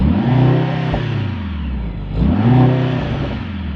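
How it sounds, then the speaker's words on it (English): A 2025 Mercedes-AMG GLC63 S four-cylinder engine revs twice, each rev rising then falling in pitch, loud and close with a throaty exhaust note, heard from outside. "Really impressive sounds for a 4-cylinder."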